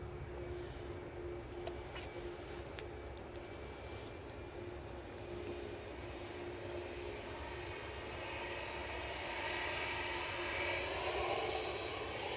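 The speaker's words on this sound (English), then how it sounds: "American Airlines are now just nudging out onto the taxiway" An American Airlines airliner taxis at Edinburgh Airport, heard as a faint, distant engine drone with a thin whine that grows slightly louder toward the end.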